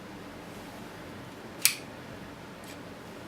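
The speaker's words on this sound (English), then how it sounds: "the mirror shutter" The mirror shutter of an Arri Alexa Studio camera gives one sharp, crisp mechanical click, followed about a second later by a fainter second click, against a quiet hiss.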